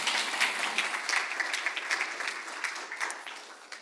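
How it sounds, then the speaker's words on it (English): Conference audience applauding after a speaker at a session on clinical studies in Norway, a dense round of clapping from many hands that stays steady and then eases slightly toward the end. "Give a Harmot a last applause."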